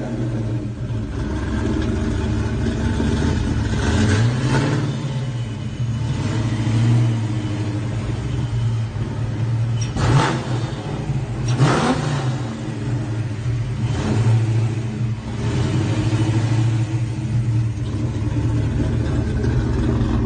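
Ford Mustang Fox body with an old SCCA-style wrap, its engine rumbling steadily and loud with a few sharp revs blipping up around the middle, close by and without talk.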